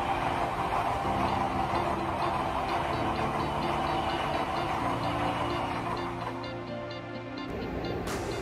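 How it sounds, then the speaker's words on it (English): A Chinese high-speed train, capable of up to 350 km/h, runs steadily with a continuous roaring rumble and rhythmic clicking of wheels, easing slightly toward the end. "This is a powerful Chinese high-speed train with a sleek aerodynamic design, running up to 350 kilometers per hour."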